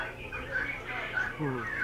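Cockerels crow and several birds cluck at a busy bird market in Yogyakarta, with people talking nearby under the calls.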